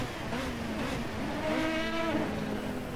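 Volvo race car engine at full throttle at Spielberg in a racing video game, a steady droning roar with rising pitch as revs climb, close and continuous.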